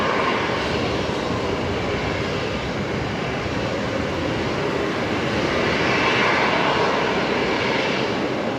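A Virgin Australia jet departs Brisbane's runway 19 right at night, its engine roar loud and steady throughout with a broad rushing hiss that swells slightly near the end.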